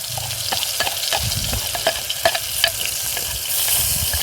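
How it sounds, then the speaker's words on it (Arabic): Hot oil sizzling in a pan while Egyptian molokhia is cooked, a close, steady crackle with sharp pops and a few spoon or pan knocks throughout. "الزيت يقدح عشان اسمع التش"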